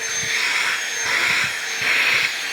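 A DEWALT 20V cordless vacuum cleaner whirs with a steady high-pitched hum, its pitch swelling slightly as it's pushed back and forth.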